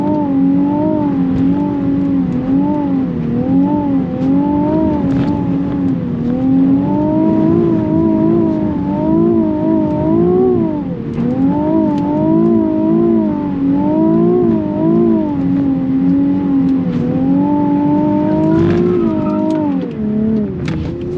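A Nissan 370Z Nismo drives hard on a track, its engine note rising and falling repeatedly as it revs through gears and corners, loud and close with a strong tonal drone that never lets up.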